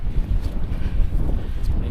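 Icy winter wind gusts buffet the microphone on Pen summit near Scafell Pike, a loud continuous rumbling roar with no voices.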